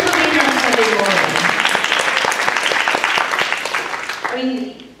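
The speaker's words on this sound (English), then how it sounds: "Give yourselves a round of applause." Applause from a convention panel audience, dense steady clapping that fills the room and then thins and tapers off toward the end.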